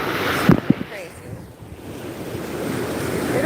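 Ocean waves wash sand away on a Florida beach, a steady roaring surf mixed with wind buffeting the microphone, preceded by a couple of sharp knocks near the start.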